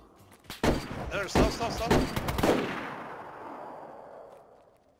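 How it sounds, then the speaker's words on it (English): A grenade blast in DayZ rolls out as a sharp burst that trails into a long, fading rumble, mixed with several quick shots and hurried voices talking over it. "What's that? Grenade! Okay. Grenade."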